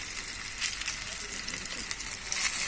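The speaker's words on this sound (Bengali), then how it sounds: "তাহলে আমরা ভাজা পর্যন্ত অপেক্ষা করি" Chicken gola kabab fries in oil with a soft, steady sizzle and crackle, fairly quiet and close, with no talking over it.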